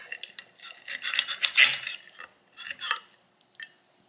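A knife saws into an air-fried skewered pork chop on a plate, giving a series of close, scraping strokes and light clinks of metal on the dish in uneven bursts, with short pauses between.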